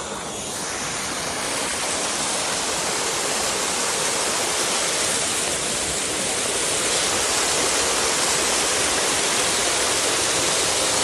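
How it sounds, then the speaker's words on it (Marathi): A forest stream pours steadily near a hidden waterfall, a loud, unbroken rushing wash of water that fills the whole stretch without pause. "पाण्याचा झरा भेटला आम्हाला सगळ्यांना."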